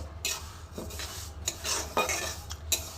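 Mung dal roasting in a pan, stirred with a metal spoon that clinks and scrapes against the pan in quick irregular strokes over a faint sizzle.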